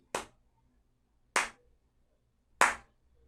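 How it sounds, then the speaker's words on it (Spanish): Three crisp hand claps marking rhythmic beats, evenly spaced about a second apart, ring out alone against near silence. "usar las palmas para marcar los tiempos"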